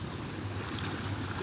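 Small flooded river in Nairobi, flowing with a steady, soft rushing and gurgling wash of water, fairly quiet and continuous with no talk.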